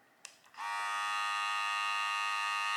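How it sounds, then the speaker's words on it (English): After a couple of small clicks, a cordless hair clipper switches on and settles into a steady, close, high-pitched motor buzz that holds until the end. "I love the quietness of the motor."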